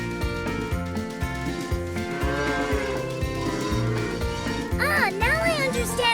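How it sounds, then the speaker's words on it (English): A cow on a farm lets out a drawn-out moo mixed into busy background music with a steady beat, and more wavering animal-like calls rise near the end. "This is a cow."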